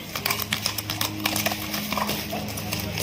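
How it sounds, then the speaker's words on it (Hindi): Hooves clip-clop steadily on firm ground as a gelded horse is walked at a stud farm, a quick, even rhythm close by under background noise. "घोड़ा बहुत खूब खसी घोड़ा, बिल्कुल नुकरे की तरह एकदम साफ है।"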